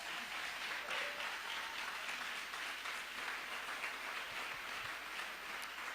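Church congregation applauding during a French-language service, a steady wash of clapping from many hands that holds at an even, moderately distant level throughout.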